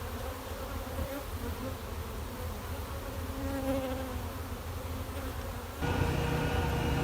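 Steady, dense buzzing of honeybees from three colonies living inside a wall, a continuous close hum that swells a little louder toward the end.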